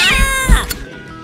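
A cat lets out a loud, close, drawn-out meow with a strained caterwauling edge, a single call lasting about a second.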